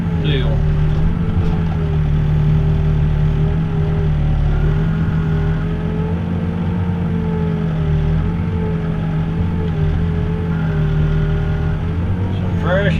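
A backhoe's diesel engine drones steadily nearby at a construction site with trashy fill dirt from demolished buildings, holding a constant low rumble with slight load changes throughout.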